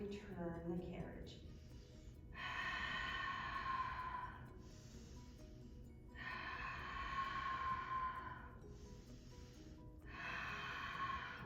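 Long, audible breaths taken in and exhaled during a Pilates reformer exercise, several slow drawn-out cycles up close, with a brief spoken moment at the start.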